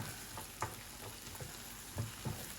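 Food cooking in a pan, likely porridge for a cafe-style breakfast, gives a soft steady sizzle with a few louder stirring scrapes and clinks, close and quiet, with no voices.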